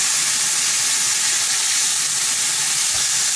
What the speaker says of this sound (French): je laisse bien saisir pour que ce soit saignant, la poêle bien chaude